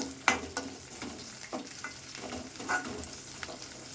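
Cut potato pieces with green chillies fry in a pan for aloo curry, giving a soft steady sizzle broken by several sharp scraping stir clicks, close but fairly quiet, with no voices.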